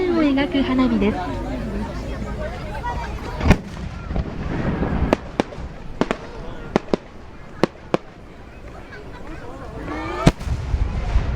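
Circle-forming fireworks at the Mito Komon festival give off a scattered series of loud, sharp reports and crackles, several spaced seconds apart, over steady crowd chatter and voices.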